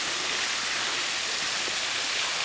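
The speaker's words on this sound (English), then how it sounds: "And then the water falls off of there." Water pours off a huge cliff in a steady, dense roar of white noise, loud and unbroken throughout with no voices.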